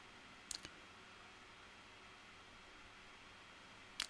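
A computer mouse clicks in a quiet room: one soft double click near the start and another sharper click at the end, with faint steady background hiss between.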